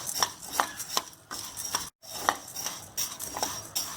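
A utensil scrapes and taps against a pan as urad dal is stirred and roasted, with a run of rhythmic, close clinks and scrapes and a brief gap midway.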